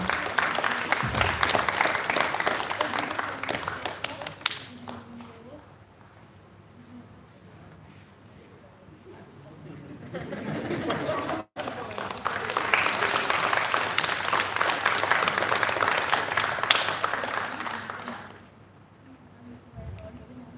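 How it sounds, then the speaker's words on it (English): Clapping rises for a participant on the final day of an astronomy space camp. It comes in two bursts separated by a quieter stretch of murmur and a brief dropout, then tapers off near the end. "A round of applause for Navinesh, everyone."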